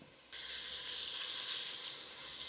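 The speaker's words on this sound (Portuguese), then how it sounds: "Enquanto o nosso franguinho tá refogando" Seasoned chicken pieces sautéing in a pan for cuscuz paulista, with a steady, close sizzle that starts abruptly and holds alone at moderate volume.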